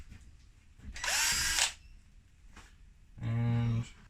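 A power drill drives screws into a door panel of a Mercedes W203 while aftermarket speakers are fitted, two separate whirring bursts of about half a second each, close and fairly loud, with quiet pauses between.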